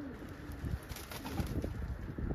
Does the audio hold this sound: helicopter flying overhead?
no